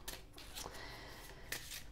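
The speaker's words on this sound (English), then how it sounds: "I will pick it up for you when I finish shuffling" Tarot cards being shuffled by hand, a dry papery riffling and rustling that carries on steadily throughout, close and fairly quiet, with a slightly sharper flick near the end.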